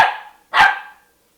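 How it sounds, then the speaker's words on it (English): A dog gives two loud, close barks in quick succession, the second sharper and louder, then silence. "Even though I am rewarding the barking behavior right now"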